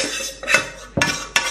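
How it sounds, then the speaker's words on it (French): A utensil stirs mashed potatoes with cabbage in a pot, giving three or four sharp scraping clinks of metal against the pan between softer mushy stirring, close and alone. "Il faut bien mélanger."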